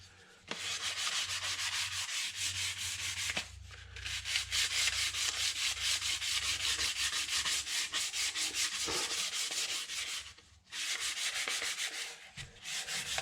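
Steady, continuous rasping of sandpaper on the wood of a Lee Enfield .308 rifle being restored, close and fairly loud, with a brief pause near the start and another short break late on.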